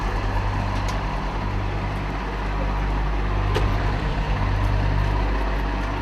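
A Washington, D.C. fire truck rolls to a morning medical call with a steady, heavy engine drone and road rumble from inside or near the cab, broken by a few faint clicks, with no voices.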